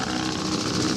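A 1926 Sunbeam vintage motorcycle setting off at a club run, its engine a loud, close, rough steady drone for a brief moment.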